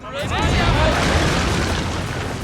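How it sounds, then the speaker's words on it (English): Coastal artillery in Total War: Shogun 2 bombarding ships from the shore, a loud, sustained booming roar of cannon fire and blasts rolling through the whole moment beneath a narrator's voice. "The defenders will actually have artillery mounted on the coast that they can use to bombard the attacking ships"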